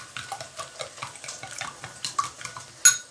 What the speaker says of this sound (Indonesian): Ini telurnya dikocok dulu.